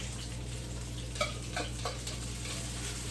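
Fresh thyme sizzles steadily in hot oil in a pan on the stove while lamb is prepared, a constant crackling hiss broken by a few soft stirring clinks, with no talking.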